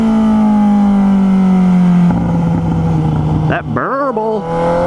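A 2018 Suzuki GSX-S 750 motorcycle engine hums steadily with a strong low drone while backing off after riding on a gravel road, then shifts into a rough, wavering burble as the revs drop and rise, loud and close.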